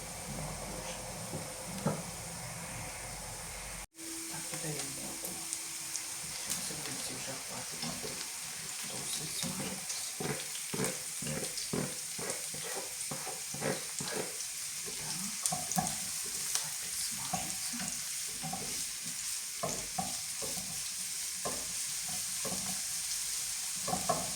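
Steady sizzling of onions frying in a pan, with occasional stirring scrapes and clicks, continuous and close throughout.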